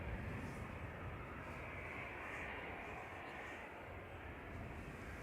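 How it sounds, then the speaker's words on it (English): An Airbus A380 airliner taxis out at Manchester Airport heading for Dubai, its jet engines giving a broad, steady rumbling roar at a distance, with faint voices in the background. "So the A380 is taxiing out"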